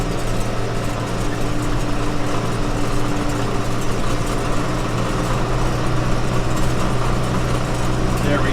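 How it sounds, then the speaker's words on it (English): A motorcycle engine pulling hard in third gear during a wheelie, a loud continuous droning roar held steady throughout, close up. "put her in third. A little bit of a wheelie, not bad."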